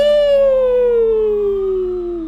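Police car siren in a GTA game, one long loud descending wail with strong harmonics sliding downward over a steady low tone, close and alone.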